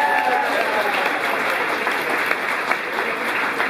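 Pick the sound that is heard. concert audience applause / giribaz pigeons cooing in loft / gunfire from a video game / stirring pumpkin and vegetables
concert audience applause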